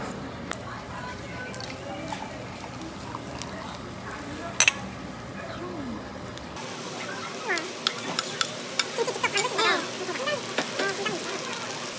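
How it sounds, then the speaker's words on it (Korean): Seafood is stir-fried on a hot pan at a Yeosu pojangmacha serving haemul samhap, a steady sizzle with scraping and clinks of utensils, set among restaurant chatter and background voices. "이렇게 나왔고 위에서 같이 볶아주실 것 같아요"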